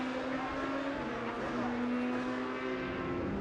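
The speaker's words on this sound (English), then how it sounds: "the Avalon car right at the back there can get close to the Bamboo Racing car down the long back straight" Race car engines droning down the long back straight at the Shanghai circuit during an Asian Le Mans Series race, a sustained steady engine tone with a faint passing swell.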